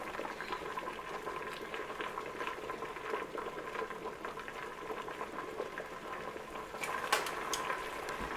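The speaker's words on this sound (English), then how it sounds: "now we have our third rolling boil, so we're going to let that boil for another 10 minutes" Poke sallet leaves churn at a rolling boil in a pot, a steady close bubbling and gurgling hiss that holds evenly throughout, with no voices.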